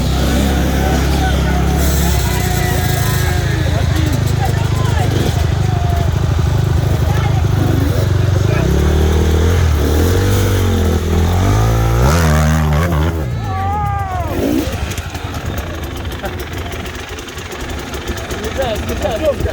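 Enduro motorcycle engine revving hard on the throttle at an enduro race near Gelendzhik, loud and continuous with rising and falling pitch, under someone shouting over it.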